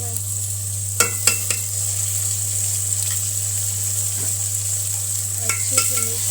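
Tomatoes and green chilies fry and sizzle in a pan, a steady hiss with a few sharp clinks of a spoon stirring against the metal, close and fairly loud.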